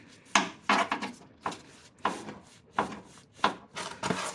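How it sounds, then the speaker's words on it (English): A pan is handled in a garage during cylinder head removal on a 2008 Acura MDX, giving close, irregular wooden-sounding knocks and scrapes, about eight separate bumps with no talking. "I grab a pan here"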